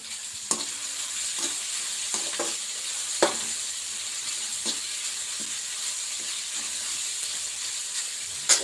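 Chopped onion frying in a pan for a dry chickpea-greens dish, a soft continuous sizzle with occasional clinks and scrapes of stirring, close and fairly quiet, no voices.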